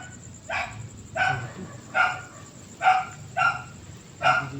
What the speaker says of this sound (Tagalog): ingay, may mga aso kasi.